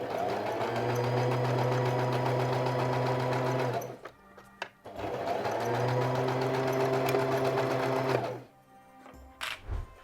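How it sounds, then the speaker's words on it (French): A sewing machine stitches a jacket pocket seam about 7 mm from the edge of the fabric. It runs in two loud, steady bursts of about four seconds each, with a brief pause and light handling clicks between them. "on coud bien à 7 mm du bord pour que la couture reste à l'intérieur"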